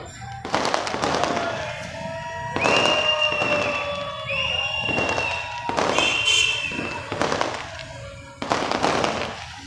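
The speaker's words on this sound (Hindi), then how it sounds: "बम पटाखे छूट रहे हैं।" Firecrackers and fireworks going off during a festive evening of kite flying, with sharp repeated bangs and crackling bursts alongside whistling, rising rockets, heard moderately close over a distant crowd.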